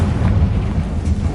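A Confringo spell blast from the video game Hogwarts Legacy: a loud, deep rumbling boom that fills the whole moment with heavy low-end roar and no speech.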